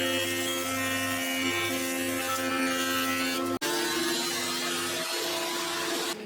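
Wood thicknesser planing a guitar body blank for a fabric-top Telecaster-style build: a loud, steady machine drone with strong harmonic hum runs throughout, broken by a brief cutoff and restart near the middle.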